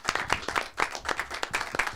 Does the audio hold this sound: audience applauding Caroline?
yes